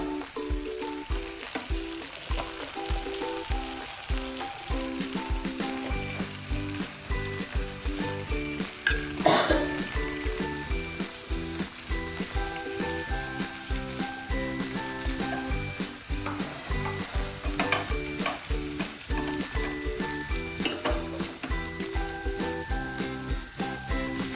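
Fish pieces shallow-frying in hot oil for a Kerala-style fish mappas, a continuous close crackling sizzle with scattered pops and an occasional utensil knock, holding steady with no voices throughout.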